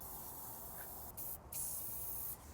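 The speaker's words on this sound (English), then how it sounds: "Now I'm gonna spray penetrating oil on some bolts I'm gonna remove in the near future." Penetrating oil sprayed from an aerosol can onto bolts of a Toyota Sienna during AC replacement: a steady close hiss with a few brief louder bursts.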